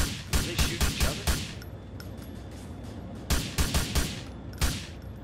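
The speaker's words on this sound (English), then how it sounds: "They are shooting each other." Bursts of rapid gunfire from a shootout in LCPDFR, a police mod for a video game, crack out in two clusters of sharp repeated shots, loud and close, separated by a brief lull.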